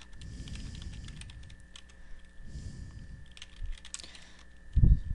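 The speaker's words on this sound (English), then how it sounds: "it's time to type this information in." Quiet keyboard typing on a computer while entering names into a Word mail merge list, bursts of soft key clicks with short pauses and a low steady hum underneath.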